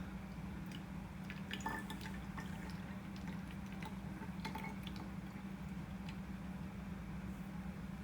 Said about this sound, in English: Let's see what happens when we add the water.